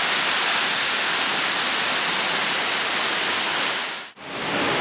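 The Turche waterfall at Buñol in Valencia, over 20 metres high, roars as a steady, loud, close broadband rush of falling water that barely changes throughout.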